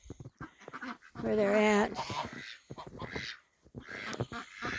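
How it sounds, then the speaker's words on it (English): Ducks and geese in packed-down snow give loud nearby quacking and honking calls, while someone talks intermittently around the birds. "I opened the gate for the ducks and the geese, but they didn't go out."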